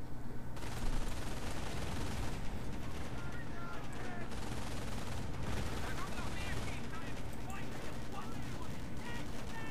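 Sustained machine gun fire and scattered shots from a video game battle rattle on continuously for the whole stretch, loud and dense, with explosions and general combat noise mixed in.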